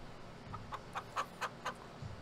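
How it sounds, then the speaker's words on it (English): Chickens wandering a farmyard in Farming Simulator 19 give a short series of six evenly spaced, soft clucks, fairly faint against quiet ambient background. "if we just buy a few chickens, we can see they just wander around the yard here"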